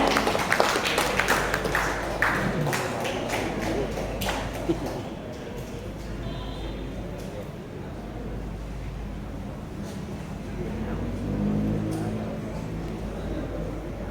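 A crowd at the grand opening of a Jaecoo car dealership in Malang gives scattered clapping for a guest speaker. The claps are brisk at first, then fade within a few seconds into quiet room murmur and background noise.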